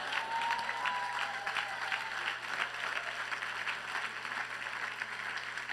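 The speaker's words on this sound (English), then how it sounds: "Clap your hands for Jesus." A church congregation clapping their hands at a summit service, a steady crowd of claps that stays even and continuous, heard from across the hall.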